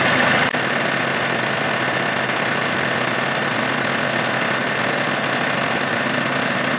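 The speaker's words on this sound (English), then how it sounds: "right now the engine is running pretty good" A steady, droning Mercury outboard boat engine runs at constant idle throughout, a faint click near the start and no voices.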